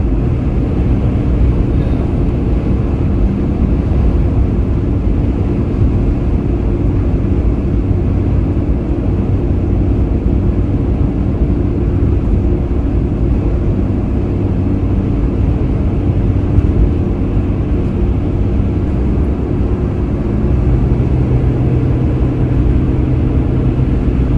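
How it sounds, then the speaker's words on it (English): Steady low roar of a car crossing a bridge with strong wind buffeting the vehicle, a continuous heavy rumble with no voices. "Wow, it's really buffeting us. Feel that? Yeah. Wow. So windy."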